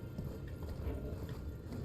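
Horse hooves pound in quick, continuous rhythm while riding in Elden Ring, a dense galloping clatter at steady loudness with no pauses, heard alone without talk.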